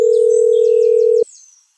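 A cartoon telephone signal plays a single loud, steady electronic tone for about a second, then cuts off sharply and fades into a brief faint tail, with no voices.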